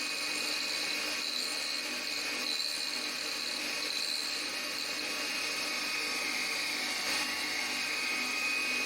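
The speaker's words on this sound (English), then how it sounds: "Drills can be ground on the side or circumference of a wheel or on the face of a cup wheel." A grinding wheel on an endmill grinding attachment shapes a split point drill, giving a steady high-pitched whine and hiss that holds evenly throughout, close and constant with no speech.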